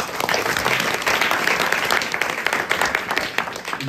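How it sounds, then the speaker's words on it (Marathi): Loud, sustained applause from the audience at a Marathi kirtan during a week-long harinam saptah in Nipani, dense crowd clapping filling the whole stretch. "त्यांच्याकरता जोरात टाळ्या वाजवल्या."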